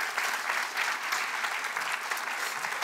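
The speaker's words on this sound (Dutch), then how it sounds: "Graag heel groot applaus voor Koen Simons." A studio audience at a Dutch talk show claps steadily in a dense, even burst of applause that fills the whole stretch without pause.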